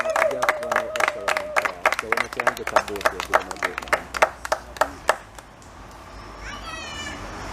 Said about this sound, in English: let's give him a big round of applause for us, please